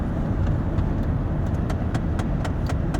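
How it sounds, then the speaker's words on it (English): A car's air conditioning runs noisily, a dense, steady roar with light intermittent ticking on top, continuous and close throughout. "my car makes a racket whenever you turn the air on."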